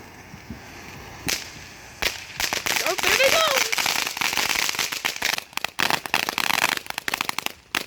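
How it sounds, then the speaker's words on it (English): Fireworks and firecrackers go off at a backyard firework party: a few isolated sharp cracks open, then a long dense run of rapid snapping and crackling bursts with a brief whistling rise, fading into scattered pops. "there's some fireworks going on over there"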